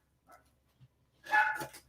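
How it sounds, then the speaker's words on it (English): A dog barks from downstairs in a house, a short, fairly distant burst of two or three barks after a faint earlier yip, with otherwise quiet surroundings. "my dog is now barking at me down there"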